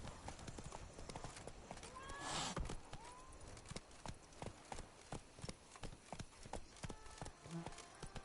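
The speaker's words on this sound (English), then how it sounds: "Even a horse drops if you ride it at a constant gallop." Rhythmic hoofbeats of a galloping horse in a PS4 video game, Blood and Wine, a quick steady clip-clop with a brief whinny early on, loud and close.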